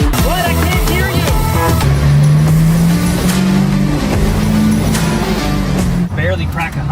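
A 7.3 Powerstroke diesel engine built for about 500 hp roars steadily on a dyno, a loud continuous drone whose pitch climbs slowly through the pull before dropping off near the end, with talk partly under it.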